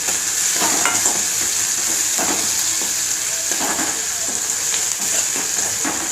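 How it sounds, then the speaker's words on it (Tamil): Tomato juice sautés in a pan for a Chettinadu chutney, giving a loud, continuous sizzle with a bright hiss and occasional soft scrapes from stirring. "தக்காளி ஜூஸ் நல்லா வதங்குது"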